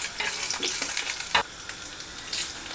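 Curry leaves, ginger, garlic and chillies fry in hot oil with a crackling, spattering sizzle, close by and uneven, with sharp pops breaking through the bubbling hiss.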